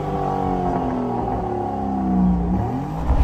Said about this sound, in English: You also get a quad exhaust system